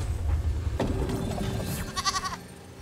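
A goat bleats in Goat Simulator 3: one short, nasal, wavering bleat comes in near the end, after a stretch of low rumbling game noise.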